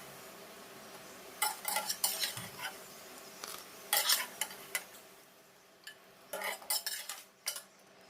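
Masoor dal fritters made with raw mango fry in oil in a pan, a quiet sizzle under bursts of spatula scraping and clinks as they are turned, with no talk.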